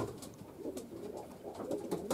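Domestic young racing pigeons cooing inside an indoor loft, a continuous soft murmur of overlapping low throaty coos from several birds at close range, steady and moderate in level with no talking.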